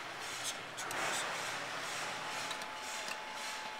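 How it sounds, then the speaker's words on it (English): A 2012 Raptor 3951 RV's rooftop air conditioner runs in electric heat mode, producing a faint, steady, even whir indoors. "Can you hear it running? Yes. Your electric heat on the air conditioner."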